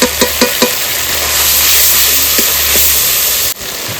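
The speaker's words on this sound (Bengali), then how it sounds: "টমেটো কুচি ভালো করে কষে নেব" Chopped tomato with salt, turmeric, a little sugar and ginger-poppy seed paste sautéing in a pan for a paneer paturi filling, a steady loud hiss with a few sharp clicks of a spatula at the start.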